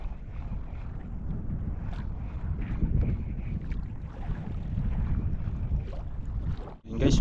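Strong wind roars over an open fishing boat at sea, a steady, loud low rumble of gusts buffeting the microphone, with no talking.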